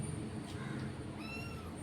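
Several young kittens meow in high, thin cries over a steady low hiss of background noise, a couple of overlapping calls standing out near the end.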